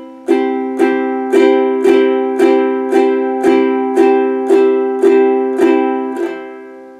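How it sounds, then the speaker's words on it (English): Ukulele strummed in an all-down pattern, four even down strokes per measure, giving about ten bright, evenly spaced chord strums that each ring briefly before the next, played close and alone. "This pattern is the all down pattern."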